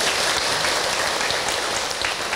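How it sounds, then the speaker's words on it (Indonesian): Loud, dense applause from an audience at an Islamic dakwah talk, honoring the speaker Kak Hilman, a continuous wash of many hands clapping with no talk over it. "Tepuk tangan Bu untuk Kak Hilman"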